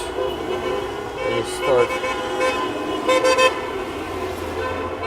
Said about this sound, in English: People are honking, that's good.